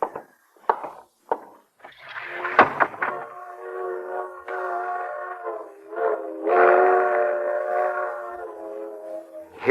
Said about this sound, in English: Hear that, Iris? Freight train.